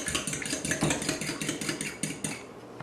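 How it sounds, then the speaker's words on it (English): Eggs are beaten in a large bowl for pumpkin pie, giving a steady, rapid clatter of a whisk or fork against the bowl, repeating several times a second, close and fairly loud, with no talking. "we're going to take our eggs, we're going to put them in a large bowl, and then you just want to beat those"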